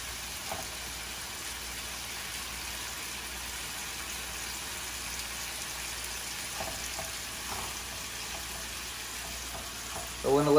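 Cajun chicken pieces fry in a pan with a steady, soft sizzle that runs throughout, with a few faint clinks and a brief louder rattle at the end.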